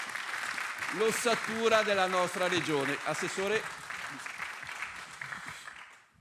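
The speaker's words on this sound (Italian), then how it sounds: "Quindi vorrei un applauso per loro" Audience applause at a regional public administration conference, steady clapping from a crowd that swells and then fades away over several seconds, beneath someone speaking into a microphone.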